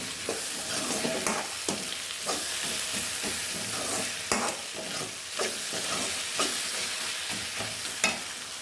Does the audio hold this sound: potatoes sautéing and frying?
yes